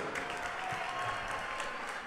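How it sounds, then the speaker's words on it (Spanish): Brief burst of clapping from a nightclub concert audience, a dense patter of many hands at moderate distance, filling the whole short moment. "Vamos a darle un aplauso a todas."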